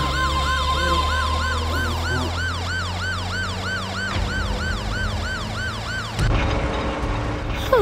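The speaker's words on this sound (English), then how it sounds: "I'm hearing a siren sound. Yeah, yes, it's police." A police siren wails in a rapid repeating up-and-down pattern, loud and close, cycling steadily for about six seconds before cutting off abruptly into a brief thud and traffic rumble.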